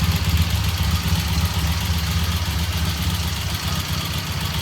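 A 1978 Triumph motorcycle engine runs steadily and close by, a loud, even, low-pitched throb with a rattling edge. The revs hold fairly constant for several seconds, with no voices.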